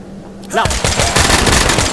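Gunfire in the VR game Tactical Assault VR breaks out as a sudden loud, dense burst of rapid automatic shots that continues steadily, close and forceful, with a voice heard briefly beneath it.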